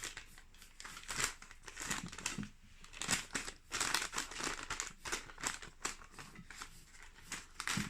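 Paper or parchment being folded and pressed shut around a trout en papillote parcel on a board, giving steady close crinkling and rustling with no talk.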